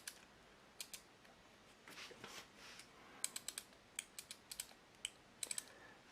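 A Citizen Promaster diver watch's tight 60-click bezel is turned under firm pressure, giving a close run of small, sharp ratcheting clicks in irregular bursts, with no talking.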